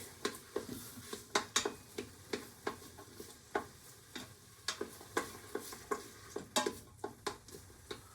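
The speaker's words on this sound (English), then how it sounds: "Give it a quick stir into your onions and garlic." Tomato paste being stirred into onions and garlic in a pan, a rhythmic series of quick scraping spoon strokes over a soft sizzle, close and regular, no voices.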